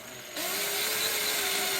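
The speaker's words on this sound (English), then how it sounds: "go back to my 5/32 drill bit here, and now make myself" A power drill with a 5/32 bit whirs up after a short pause and boring mounting holes in a Stratocaster guitar neck, running at a steady high pitch for over a second, with no talk.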